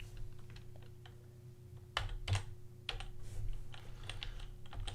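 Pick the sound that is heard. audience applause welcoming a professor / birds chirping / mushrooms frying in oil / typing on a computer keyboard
typing on a computer keyboard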